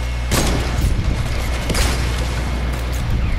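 Gunfire in the Fortnite video game, with a loud burst of booming shots at the start and another around the middle over a constant heavy rumble, no voices.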